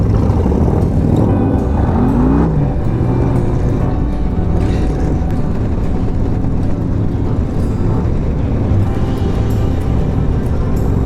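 A motorcycle on a long-distance road ride gives a loud, continuous engine drone mixed with wind and road rumble for the whole stretch, with no one speaking.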